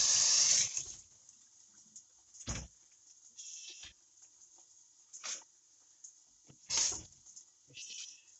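Food rinsed under a running kitchen tap: short bursts of splashing water at close range, separated by quieter gaps.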